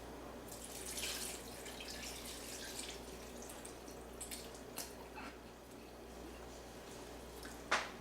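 A 32-ounce quart of pepperoncinis in their liquid is poured into a pan, making a steady splashing, trickling wash of liquid with a sharper clink near the end, close and fairly quiet, with no talking.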